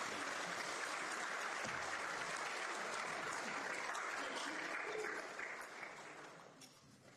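Audience applause at an evening memorial lecture welcoming the Vice-Chancellor, steady full clapping from a seated crowd that holds for several seconds then tapers off toward the end.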